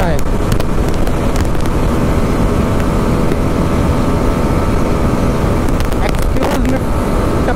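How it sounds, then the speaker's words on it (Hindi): Suzuki Gixxer SF250 or Husqvarna Vitpilen 250 engine held at the rev limiter, a loud sustained buzzing roar with rapid stuttering cuts, mixed with heavy wind noise and a few sharp clicks. "अरे यार इसमें भी लिमिटर मार रहा है"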